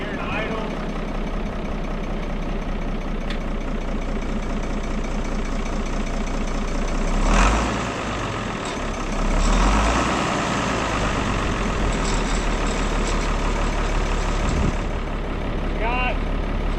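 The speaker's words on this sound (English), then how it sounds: "We're just gonna let it sit here and idle." An International Harvester 1026 Hydro tractor, found sitting in weeds, idles steadily up close with a low, rough diesel chug and faint knocking throughout, with brief louder swells midway.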